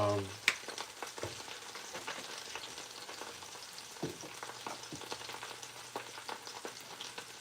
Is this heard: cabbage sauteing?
yes